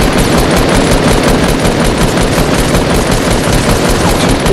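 Loud, continuous automatic gunfire in the Fortnite video game, a dense unbroken rattle of rapid shots filling the whole stretch, with a brief spoken word in the middle.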